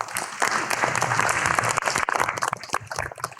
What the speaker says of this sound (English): I want you to give yourself a hand clap.